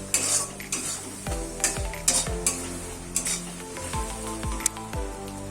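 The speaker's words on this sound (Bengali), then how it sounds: "এখন সব মশলাগুলো দিয়ে দিচ্ছি। এগুলো দিয়ে ভালো করে কষিয়ে নিতে হবে।" Ground turmeric, salt, cumin and coriander are stir-fried in a pan for an egg curry: a loud, close sizzle with repeated metal spoon scrapes and clinks against the pan, and no talking.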